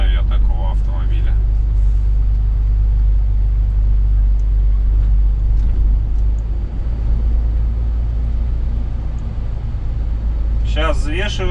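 An Iranian-made car drives out near a truck weighing point in Yerevan, its steady, loud engine rumble filling the scene while someone speaks briefly at the start and end.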